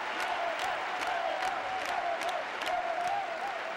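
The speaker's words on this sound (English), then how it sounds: "The crowd cheers her on." Spectators at the 2008 US Open women's final cheer and clap in a steady, moderately distant roar, with sharp bursts of applause standing out at intervals.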